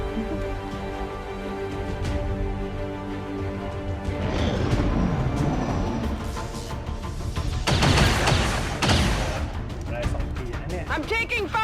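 Scattered gunshots and crashing blasts during an XCOM 2 combat mission, mixed with ambient game sounds and spoken voices, building to a louder cluster of shots.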